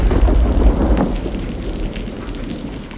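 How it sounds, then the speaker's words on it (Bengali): Heavy rain pours as a dense, loud, continuous wash with deep low rumbling, strongest in the first second, then easing slightly but staying steady, with no voices. "ঠিক সেই সময় বৃষ্টিটা আবার ব্যাপক আকার ধারণ করল"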